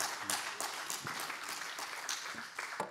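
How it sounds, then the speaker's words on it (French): Audience applause at a conference, a short burst of many hands clapping steadily at moderate distance. "Vous pouvez l'applaudir, s'il vous plaît."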